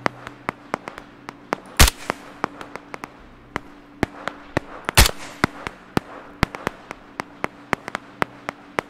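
Sniper rifle shots in the video game Operation Harsh Doorstop, sharp loud cracks fired in quick irregular succession with several louder booming reports, each snapping off cleanly, no talk.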